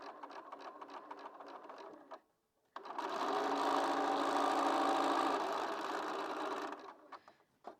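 Sewing machine at a stitch length of 1.85 stitching quilt block pieces, a short burst of rapid stitching, a brief pause, then a long steady loud run before slowing to a stop.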